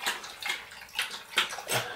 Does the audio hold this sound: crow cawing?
no